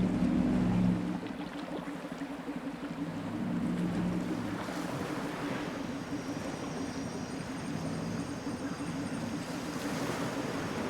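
Submarine motoring through water in Trailmakers, a steady low churning hum with a rushing, wave-like wash, loud and continuous with no talk.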